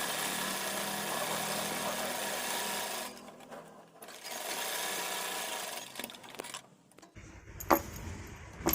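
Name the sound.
sewing machine stitching along edge of fabric strip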